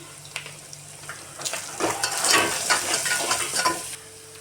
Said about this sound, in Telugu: పచ్చివాసన పోయే వరకు ఫ్రై చేసుకుందాం